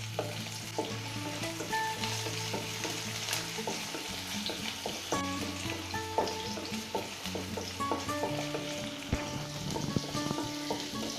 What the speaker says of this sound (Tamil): ஆனியன் நல்லா ஃப்ரை ஆகட்டும்.